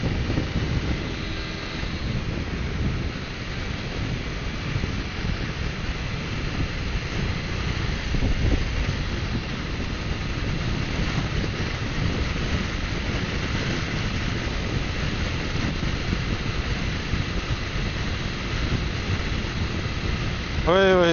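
A Yamaha V-Max 125cc ridden in fourth gear at about 95 into a headwind on a slight climb produces a continuous loud roar of wind buffeting the microphone, masking the engine, with a rider speaking intermittently.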